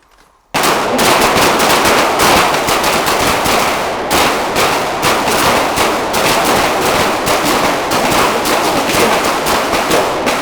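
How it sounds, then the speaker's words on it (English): Pistol shots crack out in rapid, continuous succession during a tactical reload drill, loud and close, each report sharply struck with hardly a pause between rounds for the full stretch. "5 rounds to the body, followed up by 5 rounds to the head"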